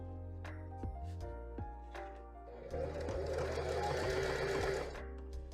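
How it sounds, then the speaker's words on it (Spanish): A sewing machine stitches elastic onto fabric while the elastic is stretched, with rhythmic mechanical whirring in bursts and stops, close and steady, with a louder continuous run toward the end. "Acá también vamos a ir cosiendo y estirando el elástico a la vez."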